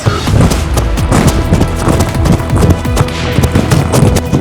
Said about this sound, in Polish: przebiegłem sprintem niczym Usain Bolt jakieś 800 metrów